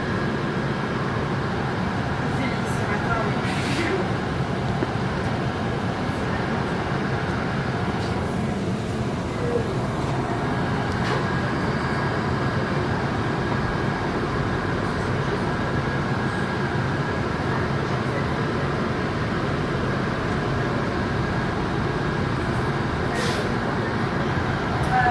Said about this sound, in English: So you got to hear the motor, you got to hear the natural sounds of the bus.